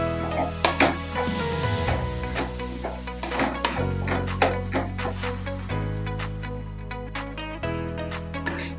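Beetroot pachadi is stirred in a hot pan, with steady sizzling and frying under repeated scraping and clinking of the spoon against the pan. No one speaks.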